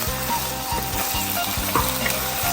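Ground pork with holy basil searing in a pan for a Thai stir fry, a loud steady sizzle broken by regular rhythmic scraping strokes of a spatula, close up.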